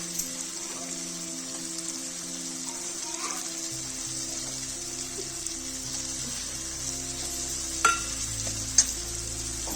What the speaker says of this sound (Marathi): यामध्ये आपण फ्राय केलेले अंडे टाकू.